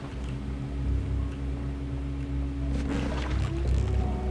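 Boat engine in the survival game Stranded Deep accelerating, a steady low rumbling drone with engine hum and splashing water noise that swells slightly toward the end, moderately loud and continuous.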